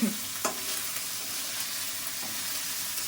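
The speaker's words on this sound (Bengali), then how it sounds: "এবার নাড়ো আলু ভাজাটা, দেখি তুমি কিরকম ভাবে করছো।" A spatula scrapes and stirs through potatoes frying in a hot pan, with a steady frying hiss and a few sharp scrapes near the start.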